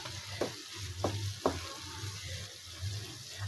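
Pitha fries gently in a small amount of oil over low heat, giving a soft, quiet sizzle. A few light scraping or turning knocks sound from the pan.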